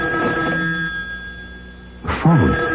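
An old-style telephone bell ringing at night in a horror radio drama, a long trilling ring with a steady electrical hum beneath, then a voice speaks close by.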